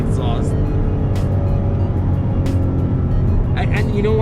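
Exhaust of a 2015 Porsche Cayman GTS rumbles in a steady, loud, low drone after a downshift, heard from inside the car with voices talking over it.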